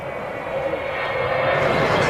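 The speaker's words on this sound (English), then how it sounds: "those engines have a sound that anyone who's ever heard a Vulcan before instantly recognizes" Avro Vulcan jet bomber engines roar steadily with a broad, sustained whine that slowly builds in loudness, with someone talking over it.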